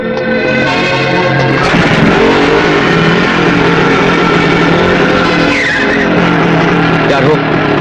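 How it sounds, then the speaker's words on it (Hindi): In a Hindi action film scene, a motorbike roars off with tires skidding and squealing, the loud engine and screech running continuously under a dramatic music score. "मैं यहां से बाइक लेके निकलूंगा"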